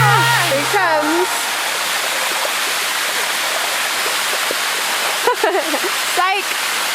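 Spray and rushing water from Bua Thong, the sticky limestone waterfalls near Chiang Mai, make a steady broadband hiss close by, with people's voices briefly heard at the start and near the end.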